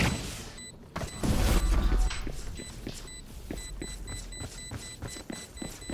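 A loud low boom bursts out about a second in during a game of VALORANT, followed by scattered crashes, clicks and game-like noises that continue to the end.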